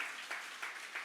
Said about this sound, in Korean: 우리 주님께 영광의 박수 올리기